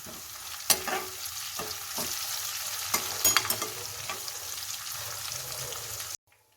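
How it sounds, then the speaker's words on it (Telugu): Mutton with a couple of sprigs of curry leaves drops into a hot pan for a mutton and cucumber curry, hissing in a steady loud sizzle with several sharp crackling bursts and stirring clatter, then cutting off abruptly near the end. "కరివేపాకు 2 రెబ్బలు వేసేసి మటన్ వేసుకుందాం."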